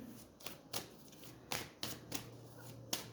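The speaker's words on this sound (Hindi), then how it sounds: "आज मैं ज्यादा शफल कर रही हूं।" Tarot cards being shuffled by hand, several soft riffling and slapping bursts at uneven intervals, close and fairly quiet, with no voices.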